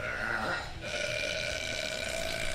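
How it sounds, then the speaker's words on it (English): A girl's recorded burp played back from an online clip, a long rough belch that runs for about two seconds with no talking over it. "I'm listening to this girl burp"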